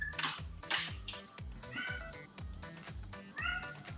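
Cats meow repeatedly in an animal shelter cattery, several calls rising over a steady rhythmic ticking or clanking background, fairly close and clear.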